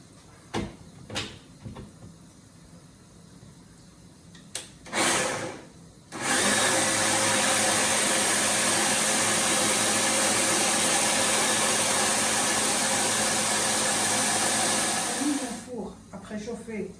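Electric blender mixes quiche filling of leek preparation with thick cream, a loud steady whirring drone running about ten seconds after a few short knocks and clatters, then cutting off.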